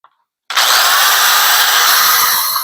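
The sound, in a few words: drilling shank holes for nails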